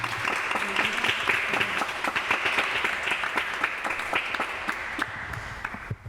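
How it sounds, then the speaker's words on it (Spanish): Audience applause fills a talk on children's and young adult literature, a sustained wash of many hands clapping steadily for several seconds, dense and even before tapering slightly at the end. "la mejor forma de agradeceroslo es un gran aplauso"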